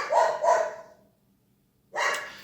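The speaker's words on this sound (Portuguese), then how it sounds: "Eu vou esperar o cachorro parar de latir." A dog barks twice in quick succession, fairly close and sharp, then a short silence before a third bark starts. No one speaks over the barking.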